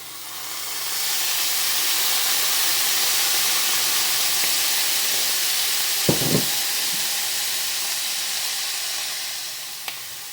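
Worcestershire sauce hitting a hot pan with Salisbury steak, a steady broad steamy hiss and sizzle that holds evenly throughout, with a few faint clinks partway through.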